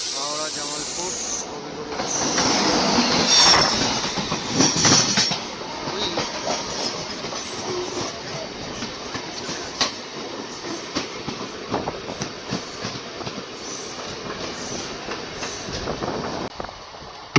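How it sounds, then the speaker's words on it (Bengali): A down passenger train on the Howrah line near Guskara runs past the up Sealdah–Godda MEMU, with a steady rolling roar and hiss, brief louder surges as the trains pass, and faint clicks over the track under occasional talk. "আমার ডাউনের ট্রেনের সাথে এবার দেখা হচ্ছে আপ গোড্ডা মেমো"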